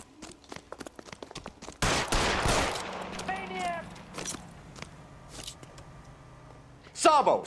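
Gunshots in the video game L.A. Noire: a sudden loud burst of fire followed by scattered sharp cracks and a final close shot, with people talking in between.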